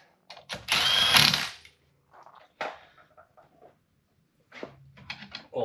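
Impact wrench tightening a wheel adapter on a Ford Mustang hub, one loud buzzing burst near the start followed by short quieter clicks and knocks of handling, close and without talk.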